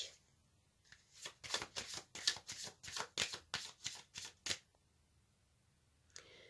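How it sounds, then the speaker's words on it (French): Tarot cards are riffled and shuffled by hand in a rapid run of about a dozen crisp, close flapping bursts, then a pause and one last faint card sound. "Je vais tirer une carte supplémentaire pour voir ce que cela va vous apporter."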